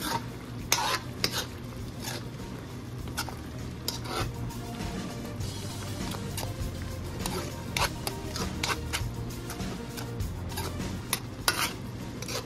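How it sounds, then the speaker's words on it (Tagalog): Pork binagoongan with shrimp paste simmers in a pot while a utensil stirs it, producing steady close scraping and clinking against the pot over a continuous low bubbling sizzle that lasts throughout, with no voices. "Haluin ko muna siya."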